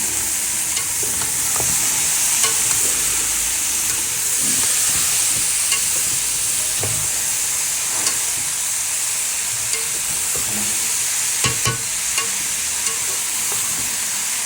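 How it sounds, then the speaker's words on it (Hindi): Mung bean pods frying in a pan with ginger and garlic already sautéed, giving a steady, loud sizzle with occasional stirring scrapes and no talk. "तो 5 मिनट हमने मूंगरे डाल के भूनेंगे।"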